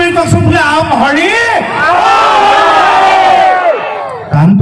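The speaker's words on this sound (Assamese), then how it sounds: "একে চিঞৰ বাখৰ এবাৰ চবেই চিঞৰি কওকচোন বোলে আম হৰি" A large crowd shouts together in unison at an Uruka-night Bhogali Bihu stage function in Margherita, a loud, sustained collective cry that swells and holds for several seconds.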